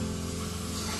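A voice imitates a spray paint can with a steady, close hiss that runs unbroken for about a second, alone with no words.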